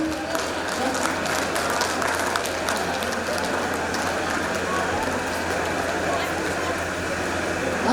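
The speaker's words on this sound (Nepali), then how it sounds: "सबैले जोरदार ताली" Audience clapping at a ribbon-cutting inauguration during a Nepali cultural festival, a dense steady wash of applause filling the whole stretch, with some voices mixed in underneath.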